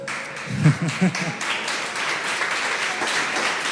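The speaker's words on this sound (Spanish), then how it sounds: "Ese fue el aplauso de una mamá." Applause from a mother in the audience during a talk on family life, a soft, steady patter of clapping under a brief voice near the start that carries on to the end.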